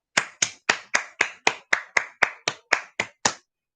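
A single person clapping slowly and evenly, about a dozen sharp, crisp claps spaced steadily apart, close and clear against silence.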